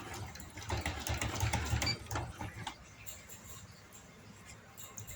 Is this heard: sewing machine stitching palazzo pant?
yes